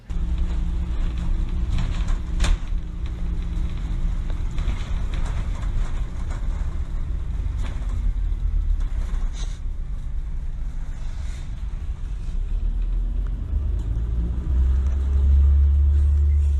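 Riding aboard a bus gives a continuous low engine and road rumble with interior rattles and occasional faint background voices, steady throughout and building slightly louder near the end.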